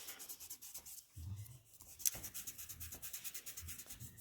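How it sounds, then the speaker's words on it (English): An eraser rubbing out pencil lines on a dragon drawing, a soft rhythmic back-and-forth scrubbing on paper, close but faint, with no voices. "we're now going to be rubbing out these little bits"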